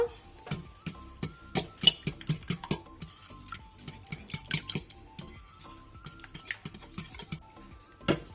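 A whisk or fork beats egg mixture with turmeric for a courgette, ham and bacon quiche, rapidly clinking against a bowl in quick rhythmic bursts, close and clear, slowing and pausing toward the end.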